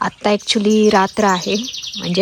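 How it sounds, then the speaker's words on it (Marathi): Birds chirp and tweet outdoors in the evening just after rain has stopped at a cabin campsite, with short calls scattered beneath a person talking close by. "पाऊस पूर्ण थांबलाय आणि पक्ष्यांचे मस्त आवाज येत आहेत"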